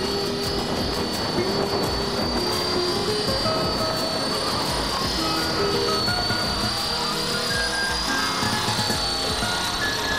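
A Blade 400 RC helicopter runs at 60% throttle with a steady, loud, close whine and rotor hum that holds without a break, with no voices.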